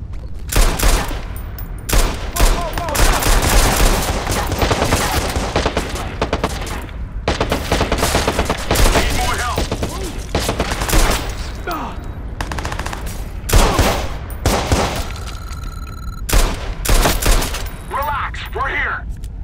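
Dense, sustained gunfire from the Watch Dogs video game, rapid bursts and single shots packed together almost without pause for the full stretch, loud and close, with a voice talking over parts of it.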